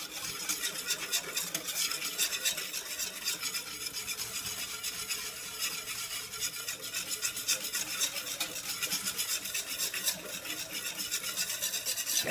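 Continuous scraping and swishing of a utensil stirring thickening homemade gravy in a pan, steady and close, with a faint bubbling sizzle underneath and no talking.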